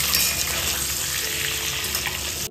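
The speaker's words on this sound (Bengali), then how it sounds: "এদিকে কথা বলতে বলতেই আমি আলুগুলোকে খুব সুন্দর করে ভেজে নিয়েছি, আর সেই একই তেলে ডিমগুলোকেও একটু ভেজে নিয়েছি।" Potatoes and eggs fry in hot oil, giving a steady, dense sizzle with crackling that holds at an even level, close up, with no voices.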